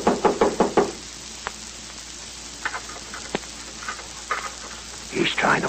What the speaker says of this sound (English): Someone knocked.